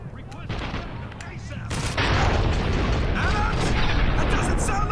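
Dense, continuous gunfire from a Spec Ops The Line firefight, loud and sustained with bursts that swell after the first two seconds, under game music and effects.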